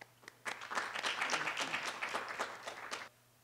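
An audience at a policy forum on network policy for digital growth breaks into steady applause. It lasts about two and a half seconds, with dense clapping from many hands that starts abruptly and stops abruptly.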